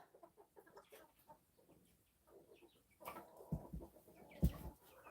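Chickens and roosters cluck quietly nearby, with a couple of sharper louder bursts of fowl calls near the end.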